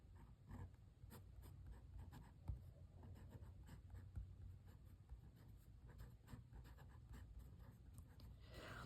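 A pen writes in a Big Dashboard Happy Planner, giving soft, steady scratchy strokes close by and fairly quiet, with no speech.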